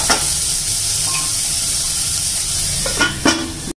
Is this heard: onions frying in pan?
yes